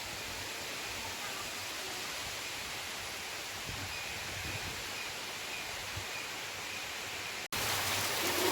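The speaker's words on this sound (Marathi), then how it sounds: "वेडा वाकडा पाऊस यायला लागलेला आहे" Heavy monsoon rain pours steadily on a village home with mango and coconut trees nearby, a dense continuous hiss that grows louder near the end, with no talk.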